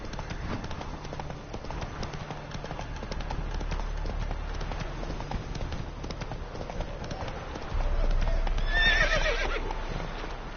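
Roach, the horse in The Witcher 3, trots with a steady clip-clop of hooves, and near the end a loud, clear whinny rises above the hoofbeats.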